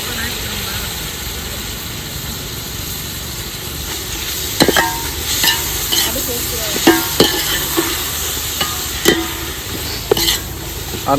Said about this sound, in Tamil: தக்காளி போட்டு தக்காளி நல்லா மசிகிற மாதிரி ரொம்ப நல்லா குக் பண்ணிக்கலாம்.